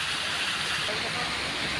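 Floodwater rushes in a steady, loud broadband roar after heavy rain in a flooded rural area. It is continuous and close throughout the short stretch, with a voice faintly present.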